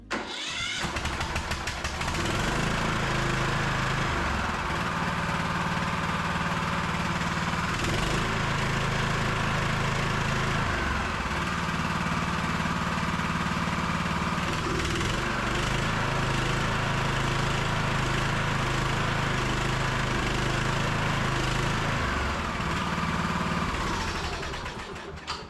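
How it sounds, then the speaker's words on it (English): A Kohler Courage SV530 small engine with a replaced governor is started in an enclosed shop, then runs steadily with a loud, even drone that wavers slightly in speed before shutting down near the end. "So I'm not going to let this engine run too long in the shop here"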